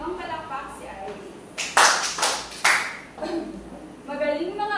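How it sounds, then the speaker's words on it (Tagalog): Three sharp, loud claps from a group of schoolchildren honouring a classmate in a Grade 4 classroom, set between stretches of a teacher's speech. "Bigyan natin ng 3 palakpak si Iris."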